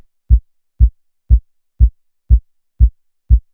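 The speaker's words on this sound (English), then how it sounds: "So we got the generic I'm a piano kick, which sounds like this." Amapiano kick drum playing a steady four-on-the-floor pattern: seven deep, punchy thumps evenly spaced about half a second apart, loud and alone with clean silence between hits.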